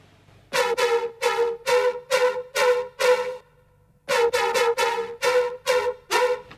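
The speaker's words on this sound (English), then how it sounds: "almost like a chommy, abstract type bass" Abstract synth bass mid layer, buzzy and harmonically rich, plays two rhythmic phrases of short repeated stabs split by a brief pause, clear and upfront with no voices.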